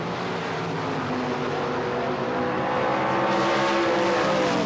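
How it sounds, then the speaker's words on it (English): Datsun 240Z drag cars with big American V8 engine transplants at an NHRA drag racing event, a loud, sustained roaring engine drone that climbs in pitch as the cars accelerate down the strip. "another one of the little Datsun 240Z cars with a big American engine transplant"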